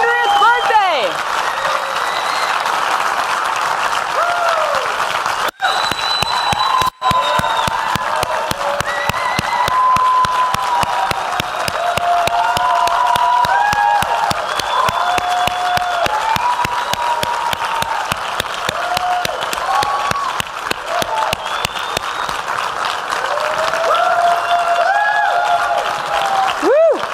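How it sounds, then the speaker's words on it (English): A large audience applauds and cheers for Jacque Fresco's 100th birthday, with sustained, dense clapping and rising shouts of voices that hold loud and steady for nearly half a minute. "I think we need to give him one more round of applause for that"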